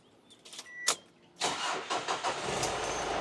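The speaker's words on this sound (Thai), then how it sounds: "ต่อไปเดี๋ยวผมจะลองสตาร์ทเครื่องยนต์นะครับ" A 2007 Ford Everest 3.0 XLT 4x4 diesel engine starts with a few faint clicks and a short starter whir, then catches and settles into a steady, fairly quiet idle rumble close by.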